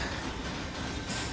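A train rolls along in the video game Little Nightmares II, a dense, steady rumbling wash of rail noise that stays loud throughout, with no voices.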